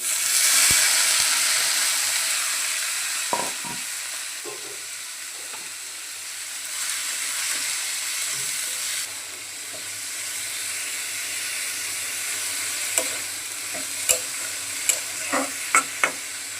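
Cut potatoes, amaranth stems, onion and green chili drop into a pan where fish roe is lightly frying, giving a sustained sizzle with scraping stirs and sharp spatula knocks near the end.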